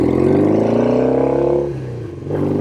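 Norton Commando Fastback motorcycle riding, its engine a loud close throbbing drone that dips briefly as if easing off the throttle, then picks back up.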